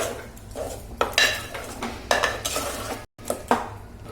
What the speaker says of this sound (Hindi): अभी मैं इसे मिक्स कर लेती हूँ और इसे पकने रख देती हूँ